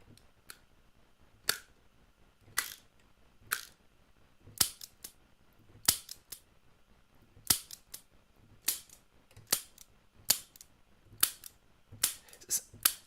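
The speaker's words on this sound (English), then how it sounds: "Sounds a little like a lighter." Sharp little clicks and snaps, about a dozen spaced irregularly, crisp and close like a lighter being flicked, on a quiet background.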